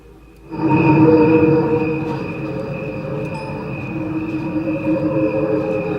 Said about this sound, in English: crickets music for everyone to enjoy